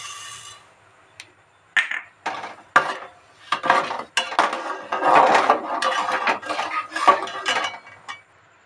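A spoon scrapes and clinks around a pot of ripe mango payesh with cashews and sugar, in irregular close bursts of stirring that begin after a quiet start, with no talk.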